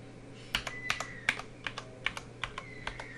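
Typing on a computer keyboard while entering a 10-digit phone number and a password into a user login form, heard as a close, irregular run of about a dozen crisp key clicks with short pauses between them.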